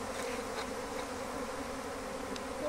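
Dense, steady buzzing of a large honeybee swarm, roughly 40,000 bees, gathering into a hive box; a continuous loud drone with no gaps and no talking.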